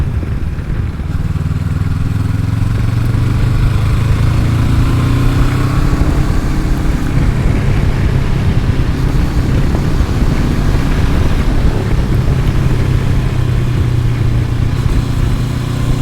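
A 2023 Honda CB500X motorcycle riding onto a highway, its engine a steady loud drone with rising pitch as it accelerates, and heavy wind rush throughout.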